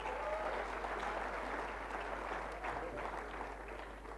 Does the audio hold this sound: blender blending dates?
no